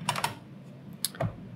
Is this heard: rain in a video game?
no